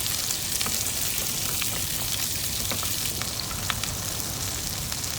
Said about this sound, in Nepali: अनि मैले क्याप्सिकम र प्याज राखेँ। अनि एकछिन चलाउँदै पकाउँदै गर्छु।